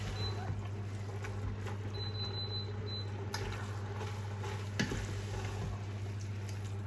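Minced meat browning in a pan for Bolognese: a faint, steady sizzle sits under a low background hum, with an occasional clink of a utensil.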